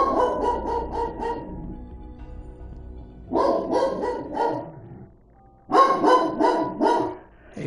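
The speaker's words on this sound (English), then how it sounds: "Sorry about that, it's my dog." A pet dog barks indoors in three separate bursts of rapid, loud barks with short pauses between them, close to the microphone, with no talking.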